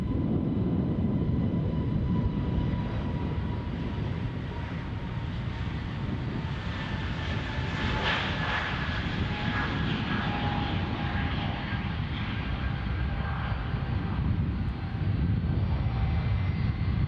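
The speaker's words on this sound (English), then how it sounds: "United's departure to Washington" A United Airlines airliner departs for Washington from Edinburgh Airport, its jet engines a steady, distant roar that slowly swells and holds throughout.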